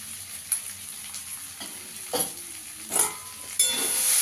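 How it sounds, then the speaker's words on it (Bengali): Coriander powder and spices sauté in a pan, a soft hiss broken by several scraping stirs and spoon clinks against the pan, rising to louder sizzling at the end. "ভালো করে কষিয়ে নেবো এবার"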